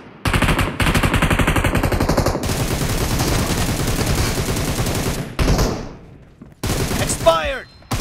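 Rapid automatic gunfire in PUBG Mobile, long loud bursts of fast shots up close, broken by short pauses and a final burst, with game announcer voices briefly over it.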